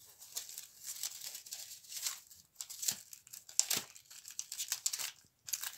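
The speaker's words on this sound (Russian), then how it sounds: "открываем наш каталог" A plastic-wrapped catalog being opened gives off a run of crisp, irregular crinkling and rustling bursts, close and fairly quiet, with brief pauses between them and no talking.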